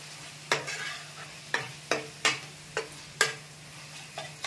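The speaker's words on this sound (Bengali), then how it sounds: "এই সবজির মধ্যে সব মশলাটা দিয়ে দিচ্ছি। ভালো করে নাড়া দিতে লাগবে।" A spatula stirs zucchini and mixed vegetables with spices frying in a pan, sharp separate clacks against the pan every half second or so over a soft sizzle, close and quiet, no voices.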